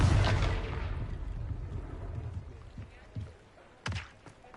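A Confringo fire spell goes off in a Harry Potter video game set in cozy Hogsmeade: a loud, booming blast that fades into a rumbling tail, followed by two softer thuds close by.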